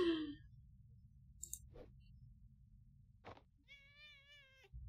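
A video-game cat meows a few times with long gaps between calls, clear and close against a quiet low hum, with a couple of short synthetic blips.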